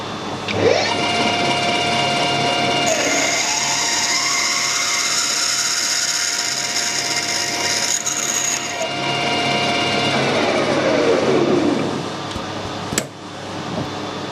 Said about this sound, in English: This centre drill should just give a nice taper start to the hole itself.